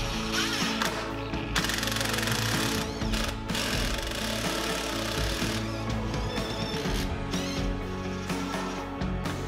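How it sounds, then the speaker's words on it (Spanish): A power screwdriver drives a screw through an aluminium window frame into a plasterboard-wall profile, giving a loud, rapid rattling buzz in several close bursts with short pauses, without speech. "le he hecho ya unos tres agujeros de 3 milímetros a lo que es el marco, para ahora simplemente atornillar al perfil."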